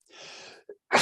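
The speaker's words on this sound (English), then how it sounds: "I need to sneeze." A single sharp sneeze bursts out close and loud at the end, preceded by a soft breathy inhale and a brief catch of breath, with no talking.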